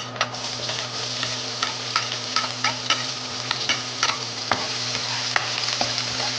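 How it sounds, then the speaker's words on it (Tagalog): Onion and garlic sautéing in a pan for pork and squid adobo, a steady sizzle with repeated clicks of a spoon stirring against the pan, close and alone with a low hum behind. "gigisa na natin ang onion and garlic natin"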